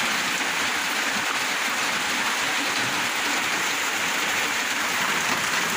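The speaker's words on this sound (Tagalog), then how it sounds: "Silong muna kami dito, ha. Hanggang tumila yung ulan." Heavy rain pours steadily outdoors, a dense, continuous hiss of drops on surfaces that stays loud and unbroken throughout, with no voices.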